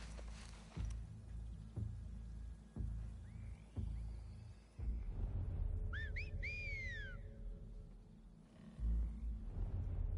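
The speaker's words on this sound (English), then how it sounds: "why they're definitely doing these call and response type things and this communication with their whistles" Enemy whistles in The Last of Us Part II: several clear, rising and falling whistled calls traded back and forth at moderate distance, set over low rumbling ambience and occasional thuds.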